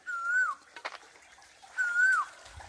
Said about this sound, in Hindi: कोयल की कूक,